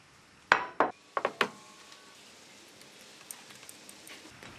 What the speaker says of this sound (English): Place the actuator bushings with the O-rings and tighten using a size 27 spanner.